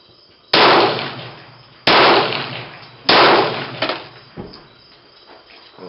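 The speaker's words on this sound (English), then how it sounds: "We're going to shoot at target number 1." Three loud, sharp Glock pistol shots at a shooting target, evenly spaced about a second apart, each cracking with a ringing echo, followed by fainter clanks and rattles.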